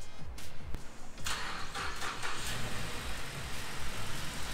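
A pickup truck engine cranks briefly and catches, then settles into a steady, close rumble.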